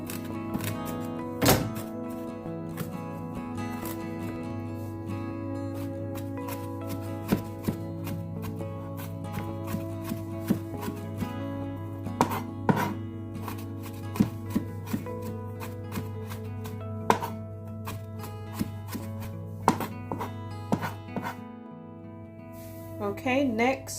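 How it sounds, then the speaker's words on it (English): A knife chops a spicy ingredient into small pieces on a board in a home kitchen, giving a long run of irregular sharp thunks, sometimes in quick bursts, under a steady hum, with a person talking at times. "So we're gonna just chop this up in small pieces."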